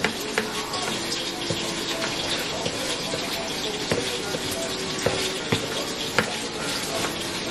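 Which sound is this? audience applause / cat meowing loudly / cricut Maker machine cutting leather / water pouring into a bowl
water pouring into a bowl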